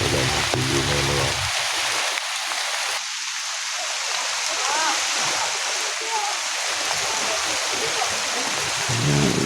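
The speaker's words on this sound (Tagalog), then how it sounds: "Malabo ang tubig sa ilog kasi umuulan." Rain falls on a river as a loud, constant hiss of rushing water, with faint voices now and then beneath the wash.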